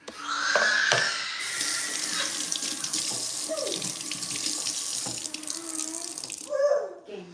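Water runs steadily from a kitchen tap into a sink while something is washed, with splashing changes as items pass under the stream.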